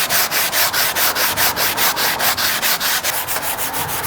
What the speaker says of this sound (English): I'm gonna take a sanding block. This is probably about 120 as well. And I'm gonna sand this